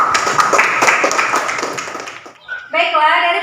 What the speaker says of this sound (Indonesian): Beri aplaus untuk teman kita.